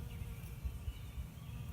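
A bee buzzes close by on honeysuckle in a low, steady drone, the hum wavering slightly as it moves, with soft outdoor background and no voices.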